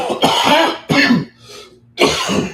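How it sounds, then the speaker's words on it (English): A person coughs and clears their throat in three loud, close, harsh bursts separated by short near-silent pauses. "The good news is the coughing is getting weaker."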